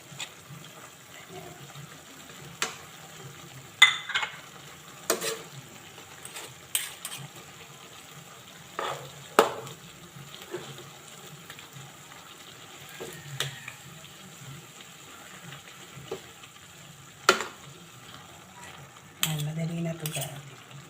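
Liver frying in a pan for Bicolano-style igado, with scattered sharp stirring clicks and scrapes over a low, steady sizzle, closing with a fuller burst of sizzling.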